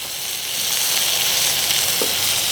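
Halibut and bok choy sizzle on a griddle with avocado oil, a loud, close, continuous hiss and crackle that holds steady from start to finish.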